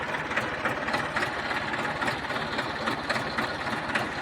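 A 2014 New Holland 4010 tractor with a 42-horsepower Simpson engine idles nearby, a continuous low rumble with a fast, even pulsing throb and no voices.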